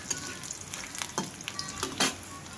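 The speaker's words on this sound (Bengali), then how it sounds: "এই যে পোলার চাউলটা দিয়ে দিলাম, এটা সুন্দর করে ভেজে নেব" Polao rice frying in a pan, with steady close sizzling and a few louder stirring scrapes, alone with no talk.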